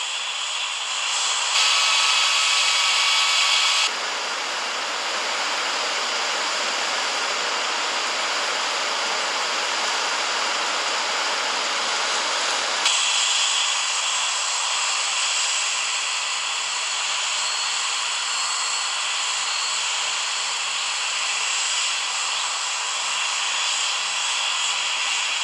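Aircraft engines in an air traffic control video game, a continuous loud jet roar with a broad hiss that holds steady throughout, shifting slightly in tone partway as takeoff power builds.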